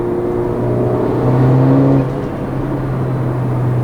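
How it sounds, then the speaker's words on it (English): A 2015 Mercedes-Benz GLA 45 AMG turbo engine hums and revs under load, with a turbo whine rising briefly in the middle before settling back to a steady drone. "this car makes really nice turbo noises"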